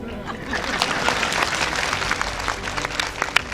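Loud, dense applause from a large audience at a political rally, sustained and steady for the whole stretch with sharp individual claps poking through near the end.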